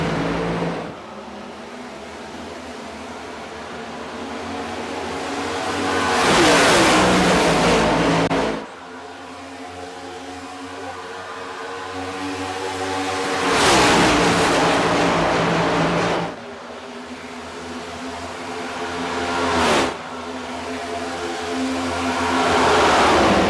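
NASCAR Next Gen race cars in the iRacing sim at Las Vegas Motor Speedway roar back to green-flag racing, engines rising in repeated surging swells as the pack passes, loud and sustained.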